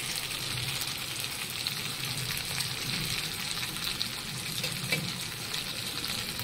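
Spice masala sautés in oil with a constant, even crackling sizzle that holds at a moderate level from start to finish, with no distinct strokes or pauses.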